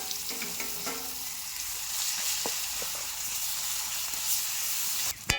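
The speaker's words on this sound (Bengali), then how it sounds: "এই তেলের মধ্যে দিয়ে দেব গোটা গরম মশলা, দিয়ে দেবো পেঁয়াজ কুচি।" Chopped onion and whole garam masala sizzle in hot oil in a pan, a constant frying hiss with occasional stirring clicks, ending with a sharp knock of a utensil.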